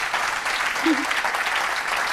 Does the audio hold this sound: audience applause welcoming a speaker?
yes